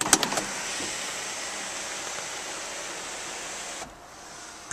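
The electric sunroof of a 2010 Volvo V70 runs overhead with a steady, quiet motor whir inside the cabin, ending in a soft stop near the close, with no talking.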